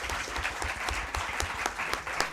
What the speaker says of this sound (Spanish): dar un aplauso a Héctor